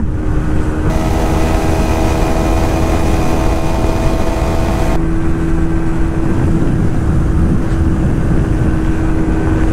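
Two TVS Apache 160 motorcycles, a 2022 2V and a 4V, in a top-end drag race, their engines droning loud and steady at high speed, one note dropping away partway through as a bike pulls ahead.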